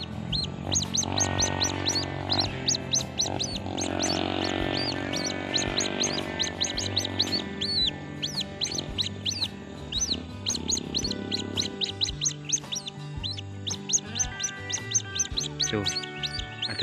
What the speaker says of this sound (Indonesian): Anak burung ruak-ruaknya gacor